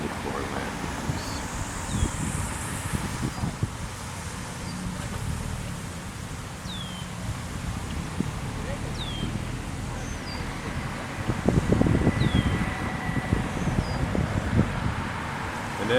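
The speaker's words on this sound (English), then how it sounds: "it's a bit windy" Wind blows steadily at Stoney Point Park in Lachine at sunset, buffeting the microphone in a low rumble that swells near the end, with faint high bird chirps scattered through it.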